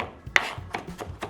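Close, quiet knife chops on vegetables for a potato and bean salad, a handful of uneven cuts with one sharper strike early on and no talking.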